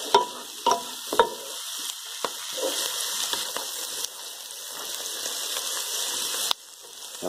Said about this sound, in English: Saute that down until it's all nicely softened off.